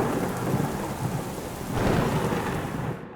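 A deep rolling rumble of thunder swells and fades over steady heavy rain, loud and close with no voices.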